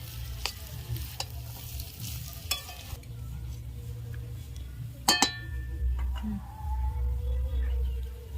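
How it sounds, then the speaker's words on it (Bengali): A spatula stirring Maggi noodles with spices in a pan, giving soft scrapes and a gentle sizzle with a few sharp metallic clinks, over a low hum. "খুন্তি দিয়ে নেড়ে নেড়ে ভালো করে মিশিয়ে নেব মশলার সঙ্গে ম্যাগিটা"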